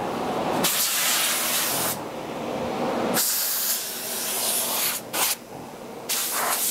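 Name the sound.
HVLP spray gun spraying conversion lacquer on doors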